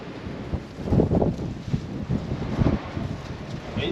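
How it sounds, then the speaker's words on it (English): Wind gusting outdoors as a storm rolls in near a budget Honda Civic build, a steady low roar that swells in loud buffeting bursts against the microphone. "Windy! Oh yeah, fucking storm is rolling in."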